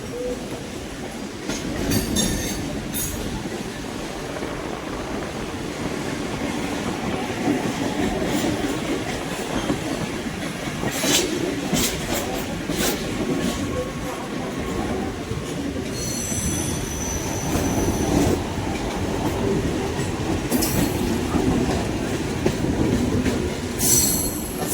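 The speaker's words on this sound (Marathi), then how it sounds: "फायनली ट्रेन चालू झालेली आहे आपली." A train rolls out of Mumbai CSMT station with a steady rumble of wheels on track, rhythmic clacks and bursts of high metallic wheel squeal, heard from onboard without talk.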